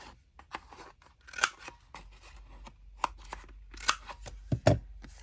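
Paper trimmer blade slicing through paper and card while making library pockets for a junk journal, a series of short crisp cuts and rustles, close and fairly quiet, with no talking.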